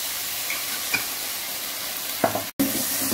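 Veg Manchurian sauce with tomato ketchup cooks over high heat, a dense continuous sizzle with a few utensil scrapes against the pan and a brief dropout near the end, close and without talk.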